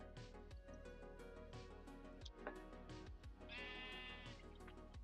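Sheep in the Minecraft video game bleat several times in quick succession, clear and close, their wavering cries standing out over a continuous background of layered music-like tones.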